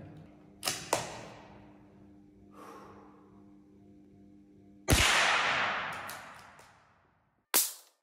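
CCI Mini-Mag rounds fired from a CZ 457 rifle give sharp, separate cracks, two close together early, then a louder report midway with a decaying tail, and a final shot at the end.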